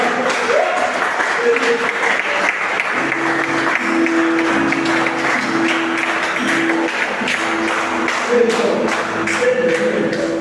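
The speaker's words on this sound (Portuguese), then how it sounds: "Irmãos, vamos aplaudir." A church congregation at a mission service breaks into sustained applause, a dense, even wash of many hands clapping throughout, with some voices and a held musical tone underneath.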